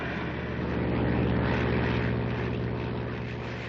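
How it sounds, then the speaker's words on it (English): A propeller airplane flies overhead in a 1953 tropical film scene, a steady droning engine hum that swells slightly and then eases, heard alone without voices. "You see that plane?"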